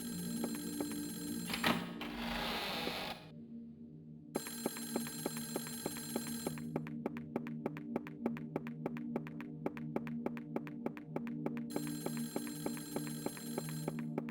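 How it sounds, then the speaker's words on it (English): A telephone rings on and on in a horror video game, a steady electronic trill repeating in rapid pulses after a brief rustle and pause, fairly quiet and with no talk over it. "there's a point where a phone rings without end"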